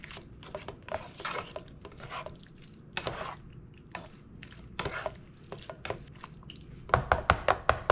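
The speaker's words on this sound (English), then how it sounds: "I'm going to give this a nice little mix" A spatula scrapes and squishes through a thick mixture in a bowl for a hamburger cornbread casserole, with irregular wet slaps and clicks that cluster more densely near the end, close by and with no voices.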